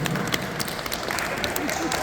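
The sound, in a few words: audience applause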